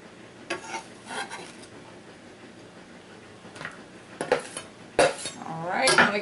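Tomatoes are dropped into a bowl while making salsa for canning, with scattered clinks and knocks of dishes and utensils amid quieter gaps, building to a louder clatter at the end.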